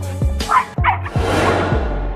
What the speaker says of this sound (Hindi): बेचारा कुत्ता भौंकने के अलावा कुछ भी नहीं कर सका।